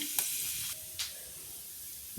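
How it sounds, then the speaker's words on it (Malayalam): A steady sizzle of coconut pieces frying in hot oil, with a couple of brief clinks from a utensil. "എണ്ണയിൽ തന്നെ അത് വറുത്ത് കോരുകയാണ്"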